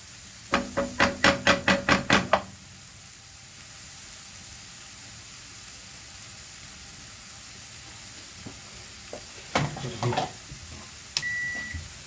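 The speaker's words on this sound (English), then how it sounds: "Let me put this timer on quickly." A kitchen timer beeps in a quick run of about eight sharp tones while chicken jalfrezi is being stir fried. Later come soft clicks and a few more short beeps and a single tone over a quiet sizzle.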